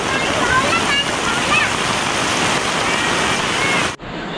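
Heavy monsoon rain pours and running water rushes in a village, a loud, dense, continuous roar that drops off sharply near the end.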